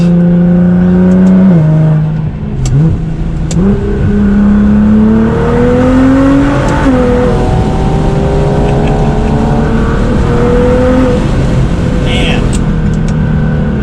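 A Nissan GTR pulls hard under acceleration, its engine note climbing in a steady loud rise from inside the cabin, with a person exclaiming over it.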